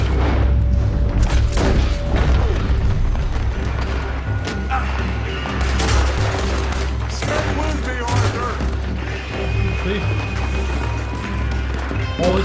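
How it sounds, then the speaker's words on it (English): Sustained gunfire in Red Dead Redemption 2, with repeated loud shots and volleys over a constant low rumble, mixed with crashes and a voice talking throughout. "Let me shoot some people here."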